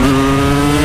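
A steady, loud motor drone with a constant low hum, like an idling or cruising motorcycle engine, close by and unbroken.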